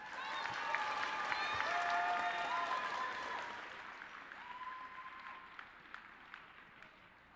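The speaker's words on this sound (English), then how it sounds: "Let's give one more round of applause to Caleb Anderson." Audience applause at a school assembly, a steady wash of many hands clapping that peaks early, then thins and tapers off with a few scattered claps near the end.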